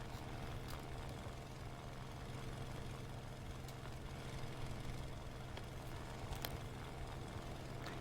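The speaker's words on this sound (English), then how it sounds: "The engine I'm hearing should be from the friend." A friendly aircraft's engine drones steadily in the War Thunder video game, a constant low, faint hum with no change in pitch or volume.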